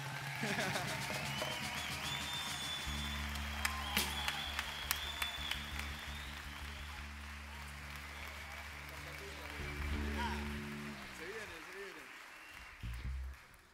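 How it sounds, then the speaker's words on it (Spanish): Audience applause for a performer at a candombe tribute event, clapping mixed with sustained music and voices, a few sharp claps standing out before the sound thins toward the end. "Un aplauso para Eduardo Daluz"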